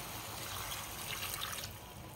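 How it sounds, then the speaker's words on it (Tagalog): Water pours steadily into a pot of adobo with a soft, continuous trickling rush, close by and fairly quiet. "Lagyan natin siya guys ng tubig."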